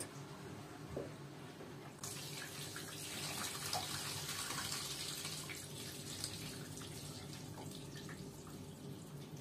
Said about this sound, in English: So you could hear there, just with that on its own, that you could hear the water coming down.